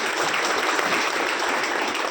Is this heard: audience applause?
yes